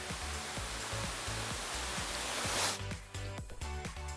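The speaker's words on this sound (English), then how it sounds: "we are enjoying the waterfall" Steady roar of a waterfall in the Netravali wild of South Goa, a dense continuous rush of falling water heard up close, loud and unbroken, with some rhythmic thumping underneath.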